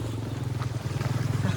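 A motorcycle passes on a mountain hiking trail near Cendono, a close, low rumbling engine putter with a pulsing idle, while people talk nearby.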